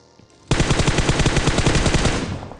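Loud automatic gunfire in a mobile battle royale game, a single sustained burst of rapid, evenly spaced shots close up after a brief quiet start, fading slightly toward the end.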